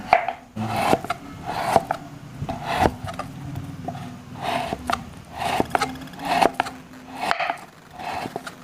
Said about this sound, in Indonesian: Seperti inilah proses penyerutannya.